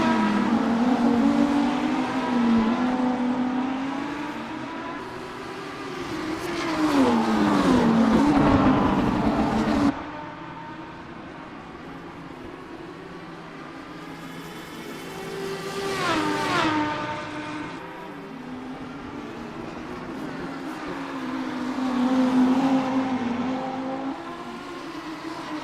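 Three race cars running nose to tail in a NARS Super Trofeo Cup race on the Long Beach street circuit scream through their gears, engines rising and falling in pitch as they pass in repeated waves.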